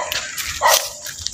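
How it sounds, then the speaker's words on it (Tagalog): A dog barks a couple of times at moderate distance during a haunted exploration outing, with steady background noise throughout and no talking. "May aso nga eh."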